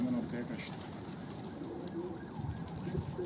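Pigeons coo low and soft amid a busy outdoor wash of noise during bird catching, with faint voices and steady background hum throughout.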